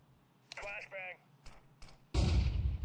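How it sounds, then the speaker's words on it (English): Sudden loud burst of a flashbang grenade detonating in Counter-Strike 2, a broad blast near the end after a few short clicks and bits of game noise, with a brief voice early on. "Throwing flashbang."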